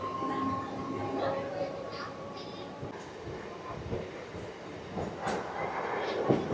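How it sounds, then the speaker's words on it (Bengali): A passenger train from Kolkata toward Lakshmikantapur rumbles along the tracks with a steady low roar and occasional rattles, heard from inside the carriage beneath faint background voices. "ট্রেনে বসে পড়লাম। টোটাল 3 ঘন্টার জার্নি রয়েছে।"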